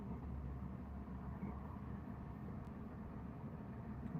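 A 2004 car engine idling at a McDonald's drive-thru in Hammond, a steady low rumble heard from inside the car and holding even throughout.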